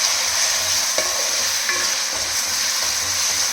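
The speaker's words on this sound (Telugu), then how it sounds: "ఈ అల్లం వెల్లుల్లిపాయ పేస్ట్ కూడా పచ్చి వాసన పోయే వరకు ఫ్రై చేసుకోవాలి" Ginger garlic paste fries in hot oil in a pan with a steady, loud sizzle, broken by a few scrapes and knocks of the stirring spoon, close up and with no talking.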